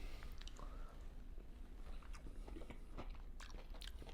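Someone takes a bite of gumbo with crab and shrimp, giving close, soft chewing and crunching sounds with small wet squishes and scrapes, quiet and intimate with no talking.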